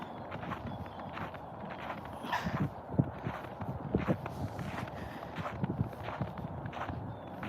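Footsteps walking on snow give soft, crunching steps at a steady walking pace, close by, over a faint outdoor background.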